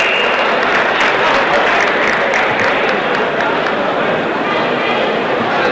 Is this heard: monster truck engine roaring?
no